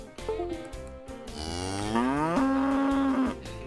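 A cow's long, loud moo rises and holds steady for about three seconds as a sound effect introducing a cattle-themed podcast, standing alone with no talk over it.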